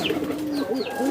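A pigeon or dove held in the hand, shown from the side, coos softly and steadily in short wavering phrases close to the listener, with no talk over it.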